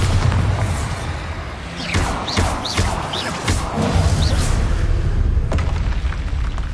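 A Bombarda spell in Hogwarts Legacy explodes with a deep booming blast, followed by rumbling debris and scattered crackles amid game background noise.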